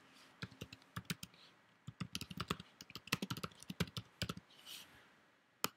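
Computer keyboard typing in short irregular bursts of crisp clicks while text is entered in a desktop layout program, close and clear with no talking.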